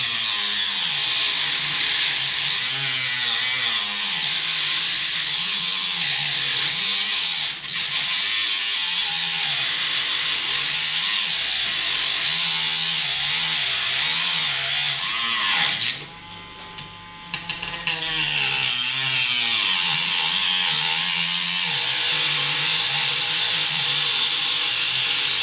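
Steady, loud mechanical whirring of a tool cutting a length of flexible model railway track, continuous for most of the span with a brief harsher burst and dip near the end, no talking.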